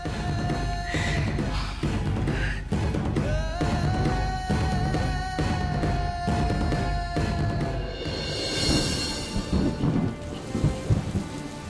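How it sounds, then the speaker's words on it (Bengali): Heavy rain pours outside in a dense, steady hiss, with deep rumbles of thunder rolling underneath and a faint sustained tonal layer in the background. "বাইরে বৃষ্টি পড়ছে তাই আমরা ভেতরে বসে আছি"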